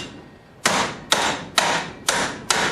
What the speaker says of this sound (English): took a hammer